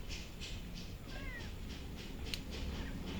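Several cats that do not get along meow and yowl at each other in a noisy room, with a short rising cry standing out over steady background hiss and clatter.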